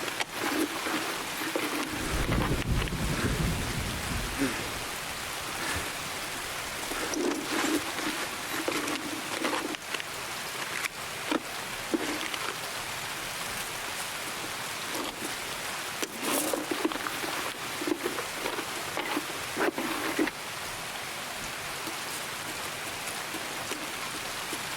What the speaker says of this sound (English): I don't know why it's raining inside this building.